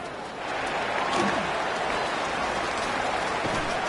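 Steady rain hisses over a football game in the second half, a constant wash of drops with faint crowd noise beneath and a commentator talking over it.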